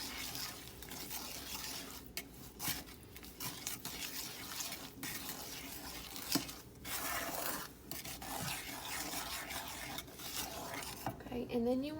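Homemade caramel sauce being stirred in a pan, giving a steady scraping and swishing of the utensil against the pan with faint sizzling underneath, continuous and close with brief pauses.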